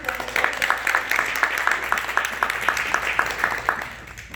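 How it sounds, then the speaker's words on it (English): Applause for Ms. Anita Adams at a graduation program, moderate rhythmic clapping from a modest crowd, continuing evenly over a low hum. "let's give a round of applause to Ms."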